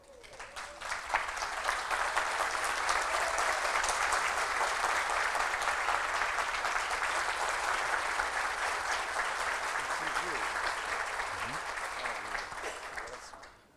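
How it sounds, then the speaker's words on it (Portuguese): Sustained, loud audience applause fills a hall at a spiritual congress, building quickly, holding steady for over ten seconds and then tapering off, with no talking over it. "pedir para eles uma salva de palmas"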